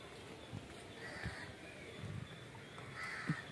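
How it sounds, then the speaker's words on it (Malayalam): Crows caw a few times outdoors, faint and somewhat distant, mixed with low background rustles and scattered thuds. "കാക്കമ്മമാരി വന്ന്."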